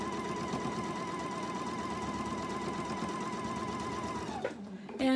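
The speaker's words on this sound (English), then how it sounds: "Gonna sew on the other side." A sewing machine stitching quilt pieces runs steadily and close for about four and a half seconds with an even mechanical whir, then stops, followed by brief handling noise.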